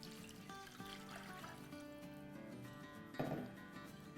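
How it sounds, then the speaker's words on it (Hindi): Three cups of water trickle faintly into a pot of kofta curry, a soft pouring sound with a brief, louder splash near the end, under quiet background music. "चलें अब हम इसमें पानी डाल देंगे, जो कि 3 कप है"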